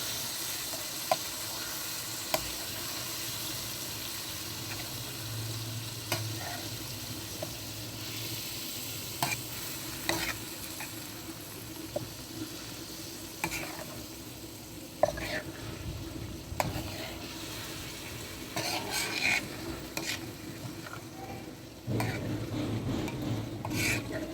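Okra and meat curry is stirred and fried in a pot, giving a continuous close sizzle with repeated scraping and clattering stirs and a louder burst of frying toward the end.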